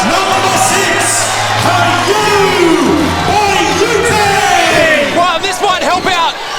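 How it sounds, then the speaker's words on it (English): A wrestling crowd at a live Rumble event cheers, yells and whoops loudly and continuously, a dense wall of voices throughout. "Oh, big round of applause."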